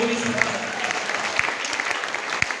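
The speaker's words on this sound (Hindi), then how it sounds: "ताली बजा लीजिए" An audience claps through a seminar talk, a dense, steady patter of hands with a few sharper claps standing out, sustained from start to end at moderate loudness.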